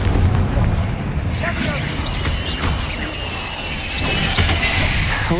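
A Confringo fire spell in Hogwarts Legacy bursts into booming, crackling explosions during combat, with loud blasts and debris over a dense game soundscape while a character's voice shouts.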